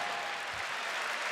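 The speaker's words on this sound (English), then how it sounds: "The crowd showing their appreciation." A crowd at a tag team fight applauds steadily after round two, a dense and continuous wash of clapping.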